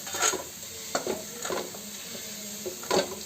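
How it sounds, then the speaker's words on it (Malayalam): Ginger fries in hot oil in a pan for inji curry, a continuous soft sizzle punctuated by several scraping stirs of a spatula, close by and without speech. "ഇഞ്ചി ഇതേ വറുത്ത് റെഡി ആയിട്ടുണ്ട്"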